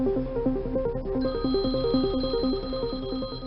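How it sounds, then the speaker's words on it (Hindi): An electronic phone ringtone plays a repeating melodic pattern, steady and fairly loud, with no voices over it. "घंटी बज रही है।"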